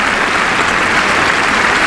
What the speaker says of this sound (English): Crowd cheering for that.